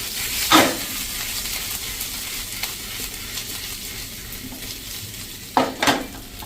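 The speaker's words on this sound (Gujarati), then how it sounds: "હવે આપણે સ્લો ફ્લેમ ઉપર જ આ વઘાર કર્યો છે અને હવે એને આપણે આ રીતે હલાવી લેશું" A spice tempering sizzles in oil over a slow flame while a spoon stirs it, with a continuous soft fizz and a couple of sharper metal scrapes against the pan near the start and end.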